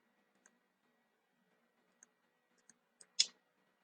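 Several faint, sparse mouse clicks tick at irregular intervals, followed by a slightly louder final click, all close and isolated against near silence.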